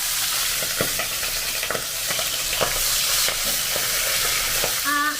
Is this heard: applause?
no